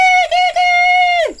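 A human voice imitates monkeys chirping along, holding a high, nasal, sustained whoop with two short dips in the middle before the pitch slides down at the end. It is loud and close.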